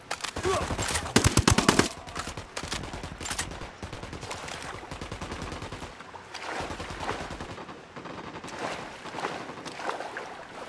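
Rapid automatic gunfire from a firefight in Ghost Recon Wildlands, with loud clustered bursts early, then repeated volleys through the rest of the clip; little speech is heard.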